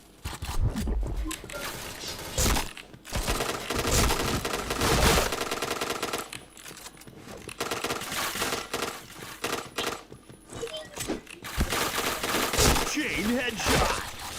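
Rapid gunfire from a shooting video game, with dense bursts of automatic fire repeatedly starting and stopping, loud and close throughout, broken by short pauses, and voices talking in the background.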